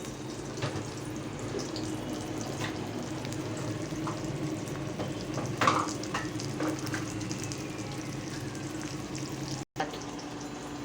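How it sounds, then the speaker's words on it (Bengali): Onion, garlic and green chili fry in oil in a pan, a steady close sizzle with occasional soft stirring clicks and a brief louder scrape near the middle. "পেঁয়াজ আর রসুন কাঁচামরিচ এগুলো দিয়েছিলাম, এটা ভাজা হচ্ছে"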